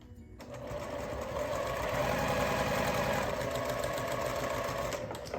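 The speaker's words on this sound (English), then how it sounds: "I'm sewing up my 9-pouch block still." A sewing machine runs steadily while stitching a quilt block for a Penny Pig quilt pattern, a close, continuous mechanical whirr lasting about five seconds with no talking.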